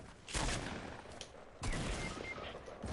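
Bursts of rapid gunfire from a Fortnite match crackle in two loud volleys, one after the other, with no voices over them.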